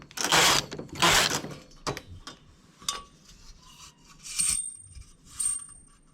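Two loud, close mechanical sliding rasps of a knitting machine carriage passing in quick succession, followed by scattered clicks and light clatter with brief pauses between them.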